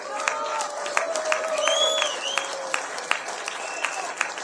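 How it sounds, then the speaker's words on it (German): A crowd at an outdoor peace rally in Munich applauds with dense, steady clapping, mixed with scattered cheers and shouting voices heard at a moderate distance. "Applaus"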